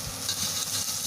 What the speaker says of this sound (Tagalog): Fry mo muna yung bawang. Minced garlic.